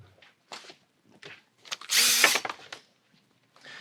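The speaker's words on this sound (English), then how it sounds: "So with the drill handy, we'll start by loosening one end of the cap." A power drill whirs in a short burst near the middle while loosening a bolt on a water filter membrane housing cap, surrounded by brief clicks and handling noises, close and fairly quiet overall.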